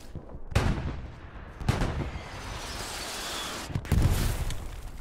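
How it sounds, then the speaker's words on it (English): Three heavy booms of artillery shell explosions in the World War II shooter Hell Let Loose, each a loud deep blast with rumbling decay, spaced a second or more apart. "I just ate another artillery shell"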